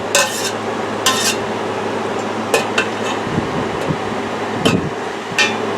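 A metal spoon scrapes and clinks against a cooking pot holding elderberry and mayhaw juice, with sharp bright strikes at irregular intervals over a steady low hum, close and fairly loud.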